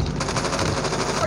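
Rapid automatic gunfire fills a Call of Duty-style video game match, a dense unbroken burst of shots heard up close for just over a second.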